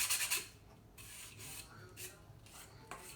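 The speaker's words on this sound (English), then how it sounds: "all you need is either an emery board or a piece of sandpaper. Sand it down" An emery board or sandpaper rasps against the edge of a paper sheet in short, close strokes, several quick scrapes at the start and then a few more separate passes, all quiet and near with no voices.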